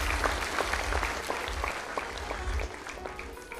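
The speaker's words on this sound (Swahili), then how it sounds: "Afadhali wale wanawapigia makofi" Clapping from a crowd at a church event honouring a group of widows, steady applause with sharp hand claps throughout, fairly close and continuous.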